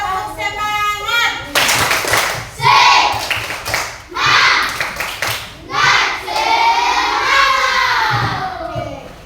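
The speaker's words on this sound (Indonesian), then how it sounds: "Tapi sebelum itu kita tepuk semangat." A class of sixth-grade children does a rhythmic cheer clap in a classroom, loud bursts of patterned clapping mixed with shouted chanting and voices.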